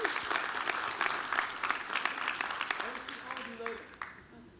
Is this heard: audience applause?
yes